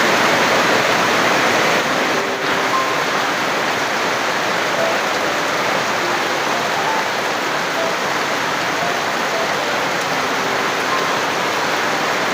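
Heavy, unrelenting rain pours down in a continuous loud roar that never lets up, with no voices heard.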